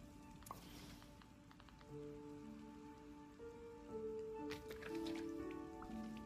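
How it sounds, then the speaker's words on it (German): Steady rain in Disney Dreamlight Valley, a soft, continuous patter of drops on surfaces at low volume, with light game tones and chimes ringing over it. "Gartenarbeit im Regen."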